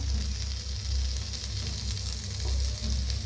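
Eggplant slices sizzle steadily on a hot tawa as they roast on both sides, a loud, close, continuous frying hiss with slight swells and no voices.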